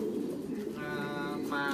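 Pigeons of a large meaty breed coo steadily inside an industrial pigeon farm, the soft rolling calls overlapping close by against a constant background hum.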